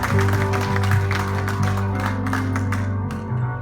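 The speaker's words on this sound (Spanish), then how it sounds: "Da un fuerte aplauso al Rey" A church congregation at a Sunday service applauds steadily for about three and a half seconds, the dense clapping layered over sustained music that continues beneath it.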